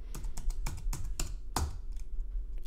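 Keys on a computer keyboard clack in an irregular run of about nine crisp taps, with one harder stroke near the middle, close up and alone while text is entered in notation software.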